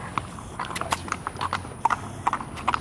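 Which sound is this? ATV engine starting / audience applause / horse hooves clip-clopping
horse hooves clip-clopping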